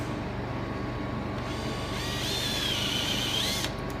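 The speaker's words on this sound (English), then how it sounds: "take an ordinary cordless drill, we've all drilled before, 7mm, no problems" Cordless drill with a 7mm bit boring out a seized glow plug in a Mercedes OM606 diesel engine: a steady close whine that rises in pitch toward the end, with no talk over it.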